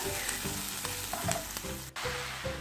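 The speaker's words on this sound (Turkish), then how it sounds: "Şimdi soğanlarımı kavuruyorum." Onions sauté in a pan for a spinach gratin with béchamel sauce, giving a close, constant sizzle with brief stirring scrapes and a momentary dip.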